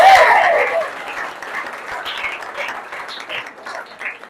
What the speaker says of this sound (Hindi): थोड़ा जोरदार ताली बजा दो